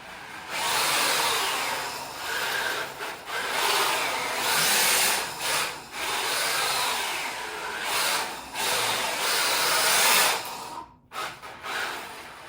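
A WPL D14s brushless RC drift truck drives about, its small electric motor whining in high-pitched bursts that rise and fall, fairly close, with brief gaps and no talk.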